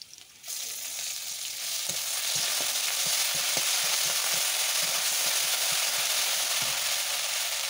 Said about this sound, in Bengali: এখন আমি কড়াই বসিয়ে দিলাম, কড়াইতে দিয়ে দিলাম পরিমাণ মতো তেল, দিয়ে দিলাম পেঁয়াজ কুচি